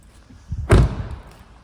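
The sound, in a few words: car tailgate being opened on Audi A3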